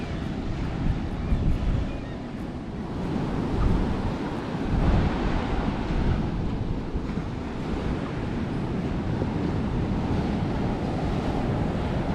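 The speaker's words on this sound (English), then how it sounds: "Here's the beach at Stewarts Point." Waves breaking on the beach at Stewarts Point in northern New South Wales, heard as a continuous roar of surf mixed with heavy wind buffeting the microphone, with no voices.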